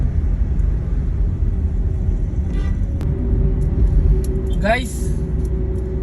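Heavy Friday traffic on EDSA Balintawak southbound near SM North, a constant loud rumble of engines with a few passing vehicle sweeps and a brief tone, while someone talks throughout.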